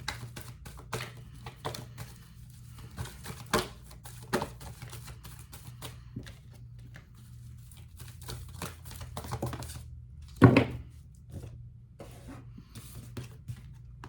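Oracle cards are shuffled and pulled close by, giving soft, irregular flicks and taps with one sharper snap partway through, and no talking.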